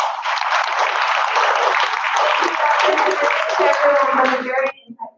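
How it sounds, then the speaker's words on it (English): Applause from a presentation audience, a full burst of clapping that holds steady before tapering off abruptly near the end, with voices rising as it fades. "First, let's give a round of applause."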